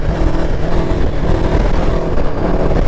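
A motorcycle engine, the bike running flat out in sixth gear, drones loud and steady at high revs close to the microphone, with buzzing tone and rushing wind, no talk.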